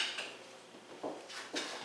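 A baking pan for a pumpkin bundt cake handled on a counter, giving a few light metallic clinks and taps, close but quiet.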